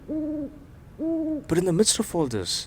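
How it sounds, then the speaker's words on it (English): An owl hoots from a tree at night near a remote bungalow, giving two clear, drawn-out hoots about a second apart before a person starts talking over the quiet background. "and that owl hooting away on some tree."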